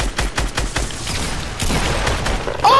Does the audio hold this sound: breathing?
no